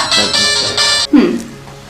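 A telephone rings loudly in repeated electronic bursts, then stops as a voice begins.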